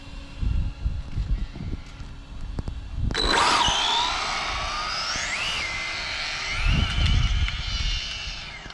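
An Arrma Vendetta RC car on a speed run outdoors. After a few seconds of wind rumble, the motor cuts in with a sharp, high-pitched electric whine that rises and wavers in pitch, holds near and steady, then tapers off.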